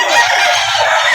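Chickens of the Clarit breed cluck and crow at the Padre Garcia livestock auction market, a dense, continuous mix of calls from a crowd of birds, loud and close.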